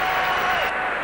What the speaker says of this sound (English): Very generous applause for this new line